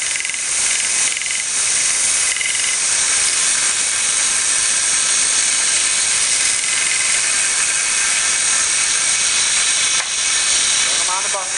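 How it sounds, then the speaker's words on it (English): A buffing wheel runs while knife hooks are sharpened on it, a loud, steady, dense whirring roar that continues unbroken from start to finish. "Turn them on the buffing wheel"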